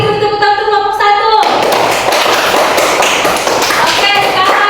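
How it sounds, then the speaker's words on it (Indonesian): After a short spoken line, a classroom breaks into dense, continuous clapping for group 1, a loud, even patter of many hands that carries on to the end. "Lagi tepuk tangan untuk kelompok 1."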